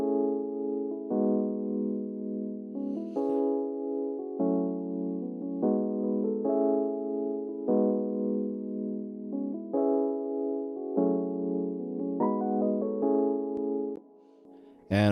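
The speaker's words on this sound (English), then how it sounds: "I started off with this Wurlitzer patch from Keyscape called the Wurlitzer 200A" A mellow Keyscape Wurlitzer 200A electric piano patch plays a melody of repeating chords, warm and sustained, heard alone, with a short pause near the end.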